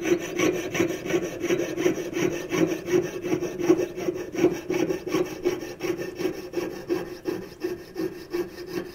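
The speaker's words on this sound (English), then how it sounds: "I'm going to cut it off to length" A jeweller's saw cuts through soldered tubing on a stacker ring, a rapid, even back-and-forth rasp of short strokes repeating steadily, close up and alone.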